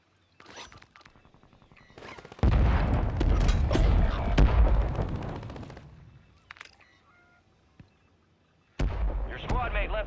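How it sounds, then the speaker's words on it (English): Mortar strike explosions in a video game, loud heavy booms and a sustained burst of blasts and gunfire that fades, followed by another loud impact near the end. "Mortar strike inbound now."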